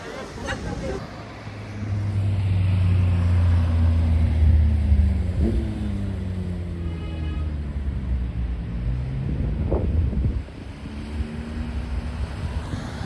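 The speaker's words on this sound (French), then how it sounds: "les deux GT3 Touring ensemble, 991 et 992" Two Porsche 911 GT3 Touring cars, a 991 and a 992, drive past in a street in Deauville. Their low engine rumble swells and fades, with a rev near the end, over crowd chatter and traffic noise.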